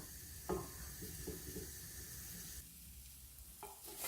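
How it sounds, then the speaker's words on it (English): Bacon cooking in a dry pan without oil for spaghetti carbonara, giving a continuous close sizzle and crackle with a few sharper pops and clatters, steady and moderate in level. "So you're going to cook the bacon until your texture, till you want it crispy, or however you like your bacon"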